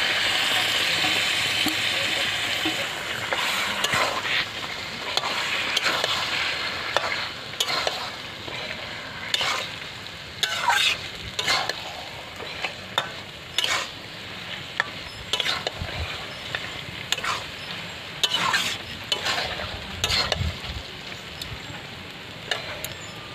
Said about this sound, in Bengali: মাংসটাকে কষাবো